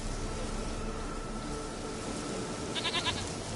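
A goat in The Witcher 3 gives a short bleat near the end, over a constant hissy outdoor ambience.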